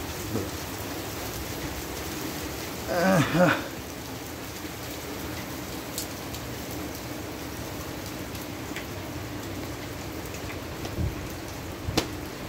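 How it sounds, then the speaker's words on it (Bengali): Steady rain falls at Bandarban Golden Temple, a constant hiss with scattered drips, broken briefly by a short burst of voice early on. "এই বৃষ্টি হচ্ছে।"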